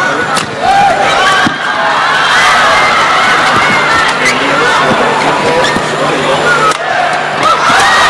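A badminton crowd at the 2006 World Championship in a mixed doubles match roars and cheers loudly after a long rally, a dense sustained wall of applause and shouting with scattered whistles throughout.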